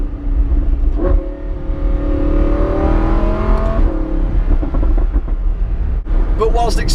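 A Lamborghini Huracan Spyder engine revs up and holds a rising, droning pitch before settling back, heard close while a person talks over it.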